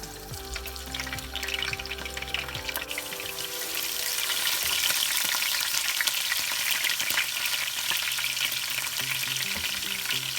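Iru, fermented locust beans, hit hot oil for vegetable soup: a low hum and some clatter give way at about three seconds to a loud, dense frying hiss that holds steady to the end, close with no talking.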